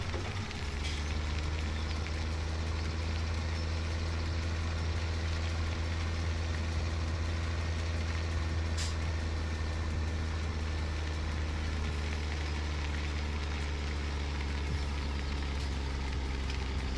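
A tractor engine labours heavily in Farming Simulator 17 during winter farm work, a steady deep droning rumble that holds constant throughout with a faint tick partway through.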